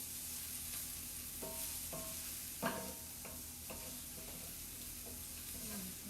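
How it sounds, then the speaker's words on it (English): Onions and celery fry softly in a pan with a steady low sizzle, broken by several light clicks and scrapes of a spoon stirring the vegetables. "So I have onions and celery going here"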